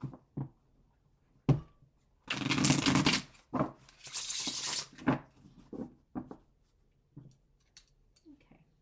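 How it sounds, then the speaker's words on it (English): Tarot cards being shuffled in several quick riffling bursts, close by, with short pauses and soft handling clicks between them. "I'll shuffle for the Empress."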